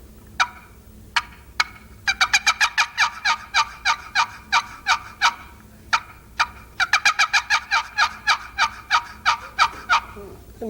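A hand-operated turkey call imitates a hen's fly-down cackle: a few spaced clucks speeding into rapid excited runs of sharp notes, repeated twice, close and clear with no talking.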